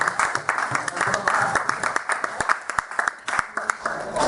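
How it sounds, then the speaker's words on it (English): A crowd applauds a man of the match award at a football club's end-of-season presentation, with scattered, steady clapping that rises and falls over several seconds, without voices standing out. "Supposed to clap on a man of the match award."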